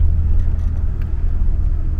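A Citroën CX Athéna juddering while driving at under 2000 rpm, a close, steady low engine and road rumble from inside the cabin, with faint clicks and no talk.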